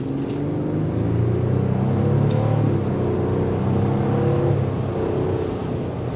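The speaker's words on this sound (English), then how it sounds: "And the exhaust note that filters in is good." Steady exhaust and engine note from a 2024 Lexus GX 550 under acceleration, heard from inside the cabin as a continuous low drone that holds level throughout with no talking.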